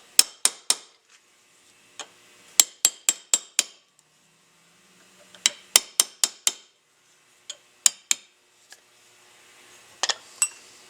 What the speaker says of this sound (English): small chisel right underneath. Tap on both sides.